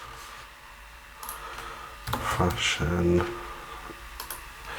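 Someone types a short phrase on a computer keyboard, a quick burst of light clicks in the middle of the passage, with a person talking before and around it.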